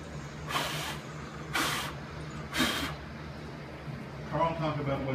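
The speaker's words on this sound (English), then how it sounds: "I'm using a touch-up type spray in oil dry to fill in these grooves and these cracks" Touch-up spray is sprayed onto a horse's skin in three short, sharp hissing bursts about a second apart, with a faint low hum underneath and quiet activity at the end.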